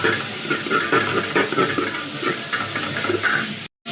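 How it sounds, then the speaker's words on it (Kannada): Tomato and mixed vegetables stirred and fried in a pan for sambar rice, a loud, steady sizzle with repeated scraping and stirring strokes, close by and with no talk, cutting off briefly near the end. "ಮಿಕ್ಕಿರೋ ತರಕಾರಿ ಹಾಕಿ ಗಲ ಗಲ ಗಲ ಗಲ ಗಲ ಅಂತ ಅಳ್ಳಾಡಿಸ್ಬಿಡಿ"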